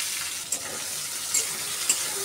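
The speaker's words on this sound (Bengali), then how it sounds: "এখন আমি তেল দিয়ে দিলাম। এখন আমি পেঁয়াজ কাঁচামরিচ দিয়ে দিলাম।" Onion and green chili frying in oil in a wok, a steady broad hiss of sizzling with a few soft scrape clicks of stirring, close and fairly quiet.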